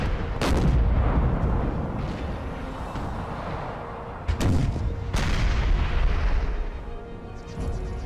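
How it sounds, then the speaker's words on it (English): Cannon fire from 10-pounder guns in Napoleon Total War, several heavy booms with long rumbling tails, some sharp and near, others overlapping into a sustained battlefield roar. "their job, they're shooting at the enemy artillery"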